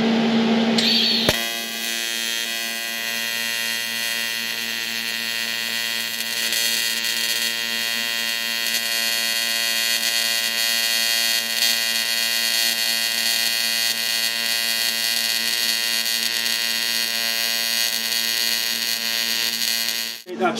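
Aluminium being TIG welded on an R-Tech AC/DC 210 welder set to advanced square wave AC, pedal-controlled with pulse turned off: a steady, even buzzing hum with a faint electrical whine holds for about twenty seconds.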